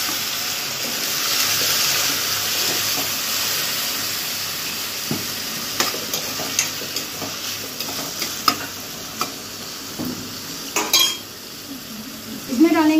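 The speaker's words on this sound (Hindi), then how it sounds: "अब इसमें हम डाल देंगे टमाटर को" Tomatoes stirred into a hot tempering in a pan while making paneer momos sizzle steadily and loudly, with scraping spoon taps and clinks of the pan building toward the end.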